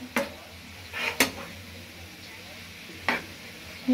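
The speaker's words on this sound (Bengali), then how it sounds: "এখন সব কিছু একসাথে মিশিয়ে নিচ্ছে" Fried rice with cabbage is stirred in a pan over a low sizzle, punctuated by three or four distinct metal spatula knocks against the pan.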